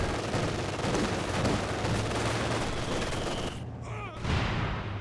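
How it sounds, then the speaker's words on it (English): In a Company of Heroes 2 2v2 match, a dense battle scene carries continuous rattling gunfire and thudding mortar impacts, with a brief dip in the din near the end before the firing resumes. "the mortar actually getting some good damage in there"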